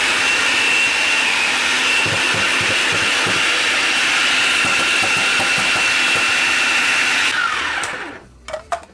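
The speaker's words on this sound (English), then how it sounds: "I have to make them smaller because of my food processor." A food processor runs loud and steady with a whirring motor and chopping rattle for about seven seconds, then cuts off, leaving a few faint knocks.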